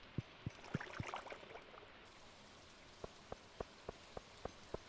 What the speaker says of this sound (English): Oh, sounds like it's raining.